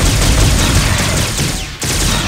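Dense, continuous gunfire from the mech combat video game Shattered Steel, loud and sustained rapid bursts with booming low end and a brief dip near the end, no speech.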